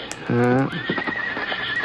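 A horse neighs in a loud, shaking whinny outside a small-town schoolhouse, followed by a few soft hoof clops and muffled movement.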